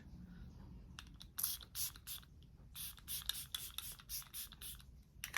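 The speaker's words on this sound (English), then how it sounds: "I'm gonna put on some setting spray" A series of short, hissy bursts of makeup setting spray, several in quick succession with small gaps, close by and fairly quiet, with no talking.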